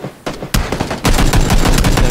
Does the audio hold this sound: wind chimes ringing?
no